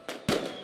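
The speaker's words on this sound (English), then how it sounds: "get away from the fucking fireworks" Fireworks going off nearby: a softer burst followed by a louder, sharp bang that rings out briefly and decays.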